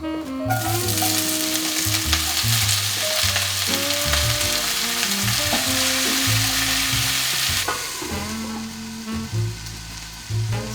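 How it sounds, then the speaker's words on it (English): Onions sauté in coconut oil in a cast iron skillet, a loud, continuous sizzle with stirring scrapes, while tonal music plays throughout and softens slightly near the end. "In a cast iron skillet, I'm going to add 2 tablespoons of coconut oil, and I'm going to saute the onions until they are caramelized."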